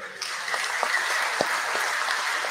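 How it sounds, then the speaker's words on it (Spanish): A church congregation at a Spanish Mass applauds for a parishioner's birthday, a steady wash of many hands clapping from across the room, with a few sharper claps standing out. "Nuestro aplauso llega a él."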